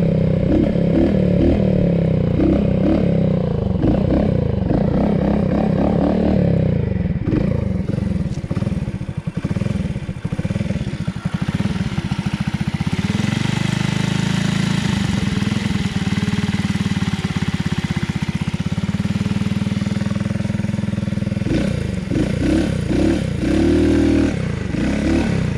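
A small engine on a motorized stunt scooter revs and idles continuously at close range, with rising and falling throttle bursts and some rattling clatter.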